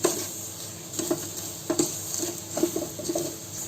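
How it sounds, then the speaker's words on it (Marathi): Vermicelli with sugar and milk powder roasting in a pan over medium heat, with quiet sizzling and a series of light scraping stirs and clinks at an uneven pace. "आता हे आपल्याला आहे ना बारीक गॅसवर म्हणजे मीडियम गॅसवर आपल्याला भाजून घ्यायचं आहे"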